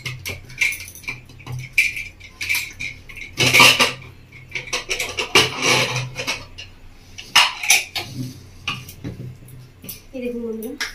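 Cooked mutton being lifted out of a pressure cooker, with metal pots, lids and utensils clinking and clattering in bursts, a few sharper knocks, and some voice in the background.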